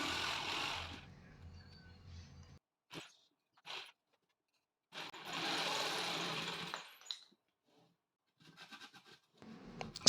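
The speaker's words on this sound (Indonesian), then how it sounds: "Mata jigsawnya mengikuti garis ya, sehingga ini bisa lurus ya sobat." Jigsaw cutting plywood along a marked line, buzzing rapid reciprocating bursts starting and stopping in several separate runs with quiet gaps between, close and moderately loud.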